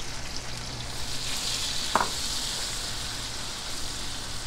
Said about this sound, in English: I'm just gonna dump my onions in here like this